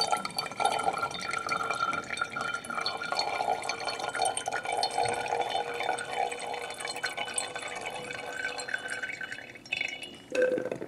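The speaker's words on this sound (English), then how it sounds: "we now need 20 mils of water to make it up to 50," Water squeezed from a squeezy bottle trickles and splashes into a glass measuring cylinder during a lab dilution, a steady close filling sound with faint glassy ringing that stops near the end.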